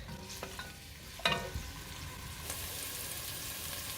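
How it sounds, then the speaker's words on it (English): Onions for a marinara sauce cook in a pan with a soft, steady sizzle, while a utensil stirring through them adds a few sharp scrapes and clacks. "So I'm going to cook the onions for about 2 to 4 minutes."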